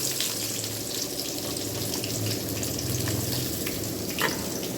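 Chopped onions and bitter gourd fry in hot oil in a pan, giving a steady, close sizzle that runs throughout with a few faint clinks, and no voices.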